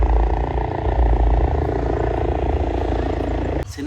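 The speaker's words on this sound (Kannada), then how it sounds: "ಹೆಲಿಕಾಪ್ಟರ್ ಹೊಂಟಿದೆ" A helicopter lifts off for joyrides at a park fairground, a loud close rumbling engine and rotor drone that holds steady before a sudden drop near the end.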